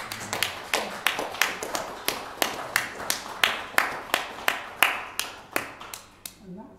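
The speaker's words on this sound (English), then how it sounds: "a round of applause." A small Mother's Day audience gives a round of applause: sparse, evenly spaced claps in a steady rhythm, fairly close and moderately loud, tapering off at the end.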